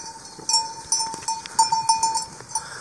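Sheep bells from a flock at pasture on a misty early morning, scattered clanks and tinkles ringing out irregularly at a moderate distance, with no voices.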